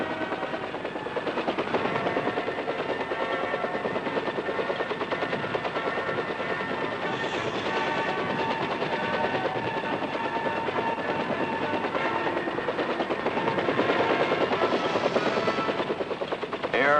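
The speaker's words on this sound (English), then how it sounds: "The UH-1 helicopter, or Huey, was proving itself as the Army's versatile workhorse" A UH-1 Huey military helicopter flies steadily, its rotor thudding in a fast, even chop under a broad engine roar that holds a constant level throughout.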